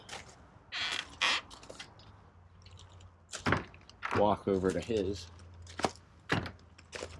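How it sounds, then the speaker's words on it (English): A sticky enclosure door for a water monitor scrapes and creaks open with a few short, sharp knocks and rattles, and someone speaks briefly nearby. "Door's a little sticky."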